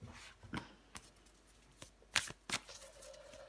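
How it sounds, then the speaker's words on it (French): Tarot cards being shuffled and drawn, heard as soft papery riffles and a few sharp snaps and flicks, close and quiet with no voices. "On prend encore une carte pour vous les Gémeaux."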